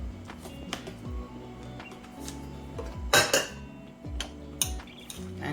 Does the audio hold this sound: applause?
no